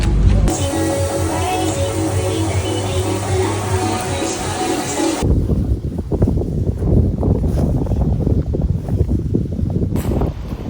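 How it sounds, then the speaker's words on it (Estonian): Heavy wind buffets the microphone with loud rumbling gusts, first under a steady mechanical hum, then alone with harsh, uneven blasts. "mind on hästi kuulda, sest tuul on suht tugev"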